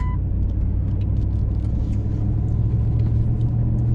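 A truck drives slowly over a soft road, its engine a steady, loud low rumble that holds level throughout with no sharp revving.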